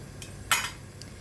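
A metal utensil clinks against a pot while mixing fried taro in an Assamese vegetable dish, three light taps with the middle one loudest, over a quiet background hum.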